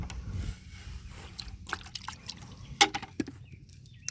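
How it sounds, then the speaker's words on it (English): Liquid compost tea for fig trees is poured into water, giving soft trickles and scattered drips with small splashes, quiet and intermittent, with a faint clink partway through. "into a beautiful, beautiful, very, very nutritious compost that you can then add to your water, and like so."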